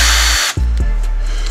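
A power drill whines loudly, cuts out briefly, then restarts in short bursts before running steadily again.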